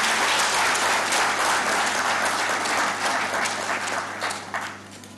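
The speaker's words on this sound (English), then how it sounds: "May I request you all to give a huge round of applause for our Honorable Vice Chancellor." An audience claps for the Vice Chancellor at a college event, dense sustained applause from a large crowd that rings loud from the start and gradually thins toward the end.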